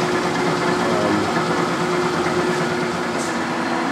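A large 30-inch by 160-inch Mazak engine lathe turns its headstock at 640 RPM with a chuck fitted, giving off a steady, even mechanical hum and whir with a faint tonal whine, close and continuous.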